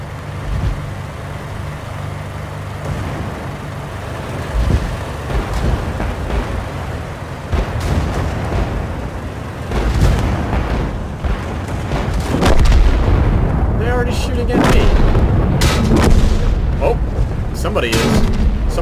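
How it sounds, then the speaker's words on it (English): Tank cannon shots and explosions rumble through a World of Tanks battle around a Vickers Medium MK1, with heavy booms, engine drone and dense impacts that build toward the end while someone talks. "Somebody is effectively shooting at me."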